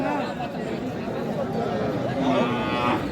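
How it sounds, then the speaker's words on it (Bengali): A Sahiwal bull calf lows at a busy cattle market in Boda, Panchagarh, its moo heard close over the constant chatter of the crowd and people talking nearby. "সাইওয়াল বাচ্চা।"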